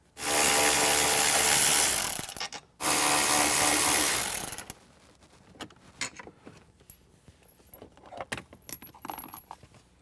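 Ford Bronco grab handle being removed with a T30 Torx bit, two loud close bursts of a power driver whirring, then scattered light clicks and rattles of parts being handled.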